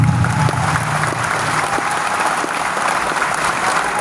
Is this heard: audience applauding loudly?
yes